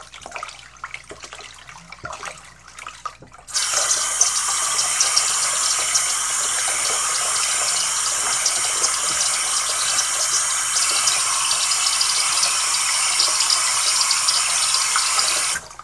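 Tap water runs steadily while hair is rinsed, a broad continuous splashing hiss that starts abruptly after a few quiet seconds of faint handling noise and holds at an even level to the end.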